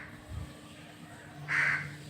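Birds perched on a rooftop ledge give one short, distant cawing call midway through, faint over quiet outdoor background noise, with a soft low thump near the start.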